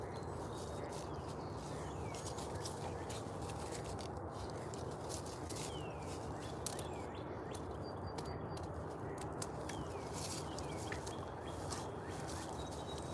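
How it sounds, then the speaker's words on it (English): Birds and ducks calling outdoors in a peaceful setting at sunrise, faint scattered chirps and calls over a steady broadband background hiss that runs unbroken throughout. "There's birds and ducks."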